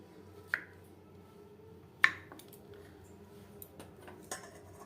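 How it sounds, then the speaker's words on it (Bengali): A knife cuts mushrooms into pieces on a board, giving a few sharp, sparse clicks and taps over a quiet kitchen background. "বড়গুলো আমি চার টুকরো করলাম আর ছোটোগুলো আমি দু টুকরো করছি"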